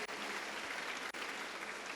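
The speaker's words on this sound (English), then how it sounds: "I want to give a big round of applause to the band." A large crowd at an Independence Day school celebration applauds the band, dense steady clapping filling the whole stretch at moderate distance with no talk over it.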